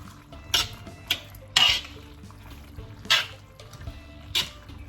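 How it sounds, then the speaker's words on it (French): A utensil scraping the bottom of a wok to lift browned bits, with five or six sharp scrapes spaced irregularly over a low background hiss, close and fairly loud. "On rate un peu le fond du wok pour récupérer les sucs."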